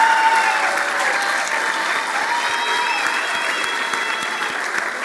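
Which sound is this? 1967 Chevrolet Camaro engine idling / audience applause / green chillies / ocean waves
audience applause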